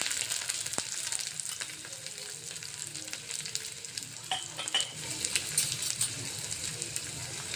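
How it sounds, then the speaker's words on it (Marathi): A large handful of peeled garlic cloves hits hot oil for a jeera rice tadka, setting off a busy crackling sizzle with scattered pops and a few metallic clinks of a utensil against the pan. "आता हे आपलं तेल गरम झालेलं आहे हा खूप सारा मी लसण घेतलेला आहे दोन गट्टे सोलून घेतलेला आहे हा यामध्ये टाकायचा आहे"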